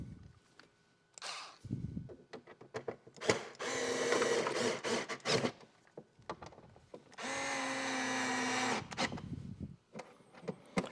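Power tool driving screws on a 2018-or-newer Honda Gold Wing saddlebag, several short whirring bursts of a few seconds each, close and fairly loud, with quiet pauses between runs.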